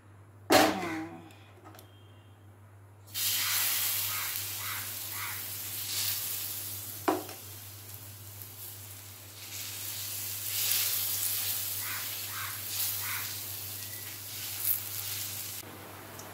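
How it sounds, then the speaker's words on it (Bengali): Golauti frying in a pan gives a soft, steady sizzle and hiss that starts after a brief clatter, with a few sharp spits and pops rising above it. "এখন আমি গোলাউটিটা ভেজে নিই"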